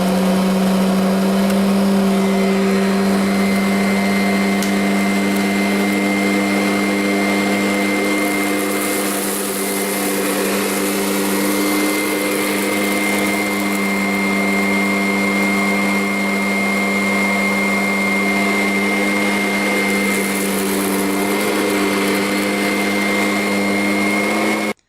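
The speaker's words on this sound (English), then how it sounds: "the Kirby's doing a great job picking up all of this oatmeal all over my floor" A Kirby vacuum cleaner runs steadily across a floor strewn with oatmeal, its motor a loud, continuous drone with a constant whine, close by and uninterrupted for the whole stretch, with no talking.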